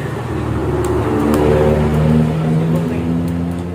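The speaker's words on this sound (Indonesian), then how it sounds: "Oke, udah connect semua, kita pencet starter." A Suzuki Inazuma motorcycle engine fitted with a handmade racing exhaust fires up and runs with a loud, close, steady drone and throaty exhaust note.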